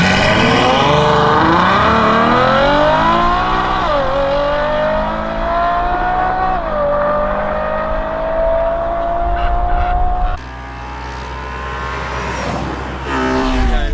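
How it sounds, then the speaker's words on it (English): Supercars, Porsches and Ferraris among them, launch together in a drag race, a loud sustained engine roar with rising harmonics and gear-shift dips, climbing steadily before a sudden drop and a further surge. "Let's hear your exhaust, Paul."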